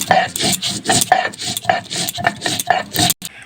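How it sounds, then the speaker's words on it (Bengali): Ginger, coriander seeds and whole cumin are ground together on a grinding stone, making rhythmic back-and-forth scraping strokes about twice a second, gritty and close, with no talking. "এবার এই মশলাগুলো একসাথে সব বেটে নেব।"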